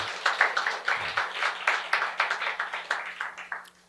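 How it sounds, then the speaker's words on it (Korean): A church congregation at a Korean Sunday service claps for a few seconds, with distinct close hand claps in an uneven rhythm that gradually taper off. "이거 한 박수 한번 주세요"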